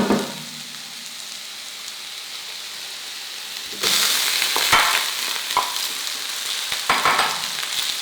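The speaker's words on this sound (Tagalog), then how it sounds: "At habang ginigisa yung bawang, ilalagay ko na rin kaagad yung sibuyas." Crushed garlic and chopped red onion sauté in a pan for dinuguan, a steady close sizzle that swells louder as the onion goes in partway through, with scattered clinks and scrapes of stirring.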